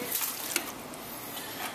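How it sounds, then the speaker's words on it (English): Apple juice is poured liberally over a brisket, a continuous close splashing trickle of liquid with a small splat partway through, steady and unaccompanied by talk. "Put that apple juice, just be a little liberal with it. Pour it right over that brisket."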